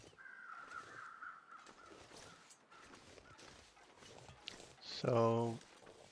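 Crows caw in the Stalker video game: a drawn-out call early on, then a loud, close burst of cawing near the end over faint ambient noise.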